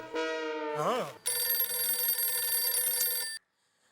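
A telephone rings loudly, with a steady bright electronic trill after a brief melodic chirp, continuing for about two seconds before cutting off abruptly, all within an indoor scene from the Indian sitcom Taarak Mehta Ka Ooltah Chashmah.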